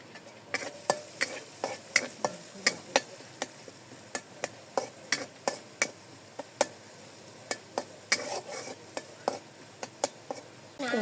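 Garlic paste and onion fry in oil under a soft sizzle, while a utensil clacks against the pan in a quick, uneven series of sharp knocks throughout.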